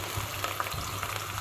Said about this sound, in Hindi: प्याज हमारा जो है वो पकना शुरू हो चुका है